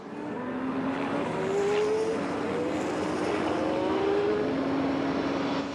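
Audi and Toyota Le Mans endurance prototypes race flat out down the Hunaudières straight, their engines a continuous roaring rush with rising whines as the cars battle at speed, heard from a distance.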